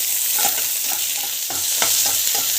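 Green chili and onion sauté in hot oil with cumin, giving a steady close sizzle with soft scraping stirs repeating through it and no talking.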